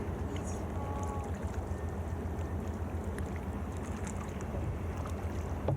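A small boat is paddled on the Susquehanna River, giving a continuous watery rush and splashing with wind buffeting the microphone. It is steady and fairly loud, with no voices.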